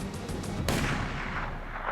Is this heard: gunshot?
yes